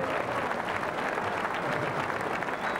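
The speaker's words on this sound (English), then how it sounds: "Let's have a big round of applause for Mr. George Gomez" Steady, dense applause from a crowd at a 1997 pinball and coin-op distributor show fills the whole moment, loud and continuous without pause.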